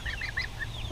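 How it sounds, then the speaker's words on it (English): A young gosling lets out a short series of honking calls, several quick nasal notes close to the microphone over a steady low background hum. "every once in a while a low-pitched goose sound comes out"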